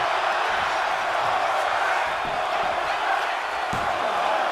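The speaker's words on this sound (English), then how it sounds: "You hearing the crowd." Crowd cheering at a Friday night wrestling event, a loud, continuous roar of voices filling the arena, steady throughout with faint thuds and shouts mixed in.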